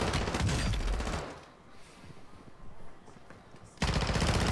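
Rapid automatic gunfire in the video game Warzone: a dense, loud burst of shots, a brief quieter gap with scattered distant noise, then another sharp burst of fire.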